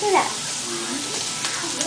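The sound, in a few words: vegetables sautéing in a pan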